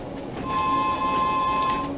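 A train whistle sounds in Train Sim World 2 on the Isle of Wight line: a steady, moderately loud tonal note holding for over a second over the running rumble of the train.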